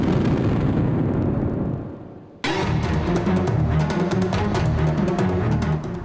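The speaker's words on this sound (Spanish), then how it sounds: "Explosiones al amanecer en Rusia, una refinería, un ducto y bodegas del mayor minorista digital ruso" Explosions at dawn from drone strikes on a Russian oil refinery, a sustained roaring rumble that dips and then bursts back abruptly with a loud blast, continuing as crackling, booming noise.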